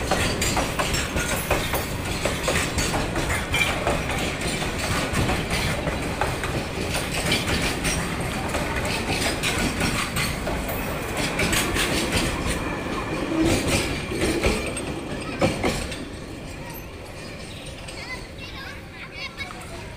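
A train passes along a railway line in Dhaka with a continuous rumbling clatter of wheels on rails, fading near the end, while children's voices and chatter are heard nearby.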